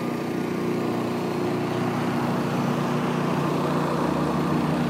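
A Honda EU3000i Handi inverter generator runs steadily and loudly throughout, a continuous low engine drone with traffic hum from trucks passing nearby blended in.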